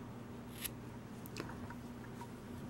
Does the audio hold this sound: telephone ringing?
no